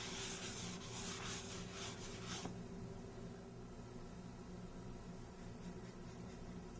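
A cloth or paper rubs briskly over a painting surface to wipe off excess acrylic extender, a soft continuous scrubbing swish that stops partway through, leaving faint quiet room noise.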